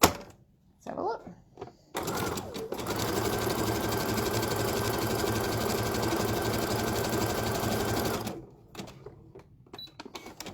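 Domestic sewing machine running steadily for about six seconds, stitching a 3-step zigzag at width 5 and stitch length 0.2 while hemming trousers, a loud even whirring rattle, with brief handling noises before and after.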